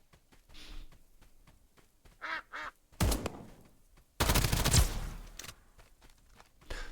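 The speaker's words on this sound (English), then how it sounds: "Somebody quacked at me." Several short duck quacks sound from the video game Escape From Duckov, mixed with in-game footsteps and a couple of loud bursts like gunfire.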